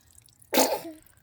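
A single sharp sneeze from a young girl indoors, close and sudden, tailing off quickly into quiet.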